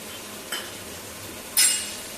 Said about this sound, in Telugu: ఆ టమాటో ముక్కలను వేస్తున్నాను.